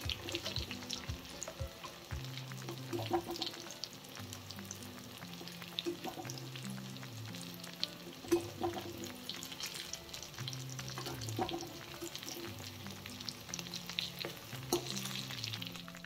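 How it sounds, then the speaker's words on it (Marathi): Stuffed bitter gourds fry in a pan while oil is spooned over them from above, giving a steady close sizzle with soft clinks and a few louder spatters, no voices. "हे बघा, मी त्यातलं तेल वरून घालते"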